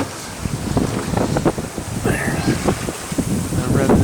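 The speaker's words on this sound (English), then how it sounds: "Wind at her back." Strong wind buffets a sailboat at sea off Cape Mendocino, blowing 15 to 20 knots from behind, a loud continuous rushing roar with gusty microphone rumble throughout.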